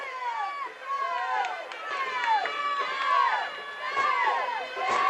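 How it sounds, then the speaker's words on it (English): A Dragon home crowd in the stands at a 2005 high school football playoff game, cheering and chanting continuously in the background while a play-by-play announcer talks over it. "this Dragon crowd wants another touchdown, Bruce. They calling for it awful strong"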